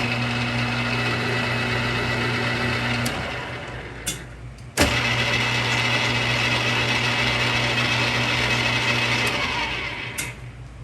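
ANMEC BL330-E lathe cutting a thread with the compound slide: a steady motor hum with tonal drone, then a sharp click or clunk and a brief dip before the machine noise continues, with a few small knocks.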